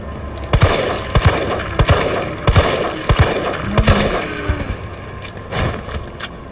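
Gunfire in the video game Resident Evil 3 Remake: a series of sharp, loud shots spaced roughly half a second to a second apart, with some quieter impacts and game ambience between them.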